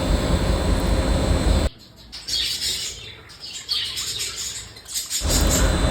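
Birds chirp and squawk in busy, overlapping calls close by as they eat soft food, set between stretches of loud broadband noise.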